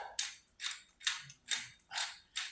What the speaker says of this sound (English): I keep crystalled salt inside a salt grinder. So it's fresh ground salt.